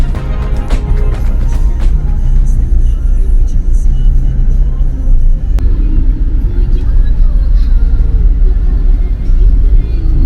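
A car cruises along the freeway from Ho Chi Minh City toward the Mekong Delta, its loud, steady road rumble and engine drone filling the cabin while a voice speaks over it.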